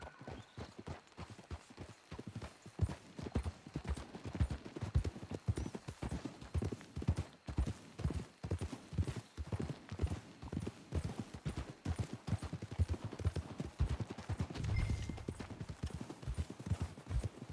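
Horses clip-clop steadily along in the video game Red Dead Redemption 2, a close, continuous rhythm of hoofbeats with a faint snort or whinny near the end.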